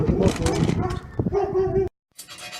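A dog barks and yips in short, close bursts at someone walking down an alley, and a voice talks over part of it before a brief pause.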